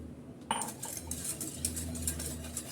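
A spoon stirs a mixture of milk, egg yolk and sugar in a metal pot for a homemade sweet, starting with a sharp clink and continuing as close scraping and light tapping against the pot, with no talking.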